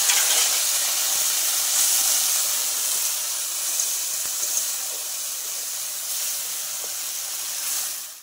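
Water poured onto frying spice paste of green chilli for a light mourala fish curry with bitter gourd and potato, giving a loud, steady steaming sizzle and hiss that holds for several seconds, then cuts off.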